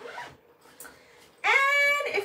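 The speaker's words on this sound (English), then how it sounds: "And we've got this really fabulous pocket in the front. And it's got a zipper." Zipper on the front pocket of a Thirty-One work bag, a short bright rasping pull that rises sharply partway through and runs about a second, loud and close.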